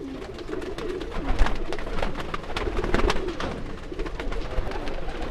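Racing pigeons in a loft coo in low, throaty, overlapping bursts, close and fairly loud, with wing flutters and shuffling among the flock and no speech.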